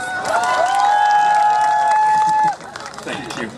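A crowd at a K-pop festival talk session cheers and whoops, one long sustained shout riding over clapping, then the noise falls away abruptly and lighter murmuring continues.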